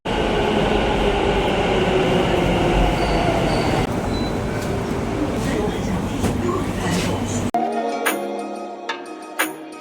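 A metro train rumbles loudly through a subway station, with steady rolling noise, wheel squeal and clatter that drops off abruptly near the end, leaving quieter station sounds with brief clicks.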